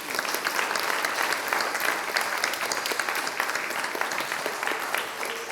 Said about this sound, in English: Would you give yourselves a nice round of applause?